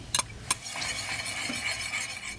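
Minced garlic being stirred in hot oil in a pot, a soft continuous scraping sizzle opened by two sharp clinks of a spoon against the pot rim.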